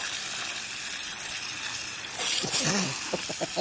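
A water spray hisses steadily as it flushes dirt out of an Arrma Mojave RC car, a close continuous wash that briefly intensifies near the end, with a few faint vocal sounds.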